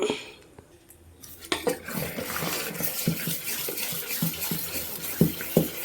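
Batter is stirred in a pot with quick, uneven scraping and light clinks of a spoon against the sides, starting quiet and then busier.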